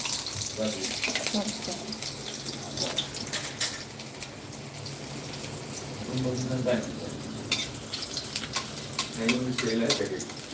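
Five or six garlic cloves frying in a pan until just reddish, giving a steady close sizzle with stirring scrapes and clinks, while someone talks over it at intervals.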